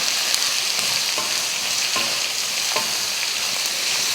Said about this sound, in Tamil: இது வதக்கலாம்